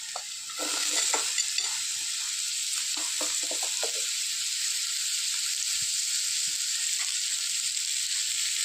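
Grated carrot tipped into a hot pan of sautéed masala for carrot mezhukkupuratty, with a few scraping stirs and rattles up front, then a steady close sizzle of frying that carries on alone.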